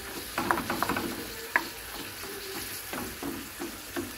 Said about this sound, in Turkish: soğanlarımıza bir türlü şu şekilde karıştırıyorum